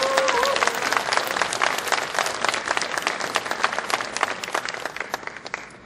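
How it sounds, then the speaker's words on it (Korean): At a party delegates' convention in Busan, a crowd welcomes an actress with loud, sustained applause, many crisp overlapping claps thinning slightly toward the end. "박수로 환영을 해주시기 바라겠습니다"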